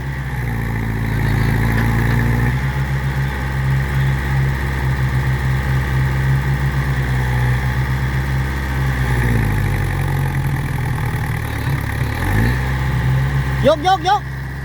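A tractor engine revs hard while the machine is stuck in wet sandy soil, a loud steady drone that rises and strains over about fourteen seconds, with people talking over it.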